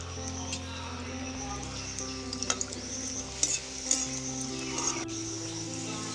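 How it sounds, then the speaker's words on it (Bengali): Rabbit-shaped snacks fried one at a time in mildly hot oil over a very low flame, a quiet soft sizzle with occasional light clinks and stirring taps, no voices. "একটা একটা করে আমি ভাজবো।"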